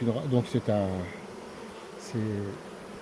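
Buckfast honeybees buzz close by in droning bursts, each rising and falling, over a constant background hum. The buzzing comes and goes.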